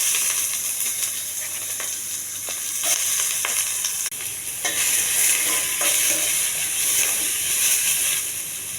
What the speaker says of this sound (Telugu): కొంచెం దోరగా వేగించాలండి ఉల్లిపాయ